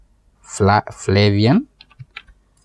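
Computer keyboard keys click softly a few times while a backup name is typed in, following a brief loud humming vocal tone.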